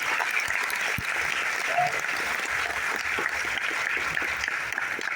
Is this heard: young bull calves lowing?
no